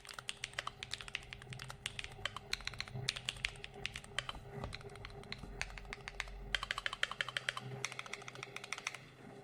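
Rapid, continuous typing on a well-padded mechanical keyboard, dense clicky keystrokes close up, with brief lulls and heavier thocks.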